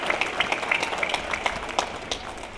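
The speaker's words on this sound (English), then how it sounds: "Please join me in a round of applause for them" Sustained applause from a large outdoor crowd at a university graduation ceremony, honoring the band and Army, Navy and Air Force ROTC members; dense, even clapping with scattered sharper claps, moderately distant.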